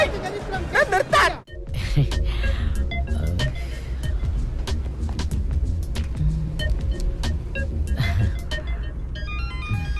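A car engine rumbles steadily as the vehicle pulls away, following a brief muffled clunk near the start, with faint tonal sounds in the background.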